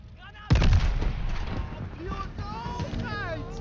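In Call of Duty Vanguard, a grenade thrown into a tank's hatch detonates with a sudden heavy boom that rumbles and decays, followed by game music and effects while a player speaks over it.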